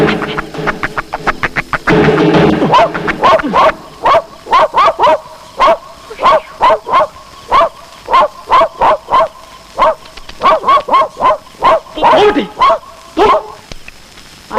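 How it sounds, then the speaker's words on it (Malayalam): A dog barks repeatedly and insistently at one spot, with sharp, close barks in a steady series and brief yips between them. "ഇതെന്താ ഈ പട്ടി അവിടെ തന്നെ നോക്കി കുറയ്ക്കുന്നത്?"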